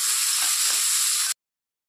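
Okra fries in a pan with an even, loud crackling sizzle of hot oil that runs without a break, then cuts off abruptly into silence.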